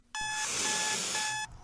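An alarm-clock ringtone of steady electronic beeping tones, loud and close, sounding alone for about a second and a half.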